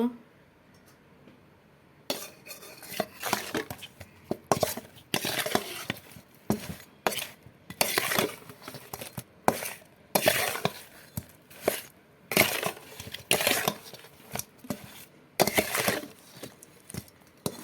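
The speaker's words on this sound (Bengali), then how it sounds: "মাছের মধ্যে নুন হলুদ একটু লঙ্কার গুঁড়ো দিয়ে দিলাম এখন মাছটাকে মেখে নেব" Hands mixing pieces of tilapia fish with salt, turmeric and chilli powder, giving repeated close, soft wet squelches and light clinks against a dish in irregular bursts after a quiet start.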